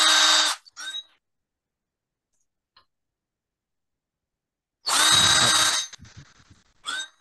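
A power drill drilling wood at a spoon-making demonstration whirs loudly in two short bursts separated by a few seconds of silence, with brief faint sounds between the bursts.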